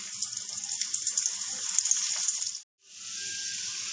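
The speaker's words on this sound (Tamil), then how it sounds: "இதை நம்ம இப்போ நல்லா ஃப்ரை பண்ணி எடுத்துடலாம்." Onion pakoda frying in hot oil, a steady bright hissing sizzle that cuts out briefly near the end and then resumes, close and moderately loud.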